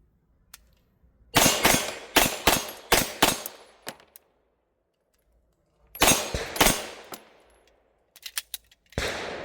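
Loud, close gunshots from an MPA DS9 LOC MK2 9mm pistol at an outdoor range, fired in two rapid strings of about five and four shots with a short burst at the end, sharp cracks separated by silence.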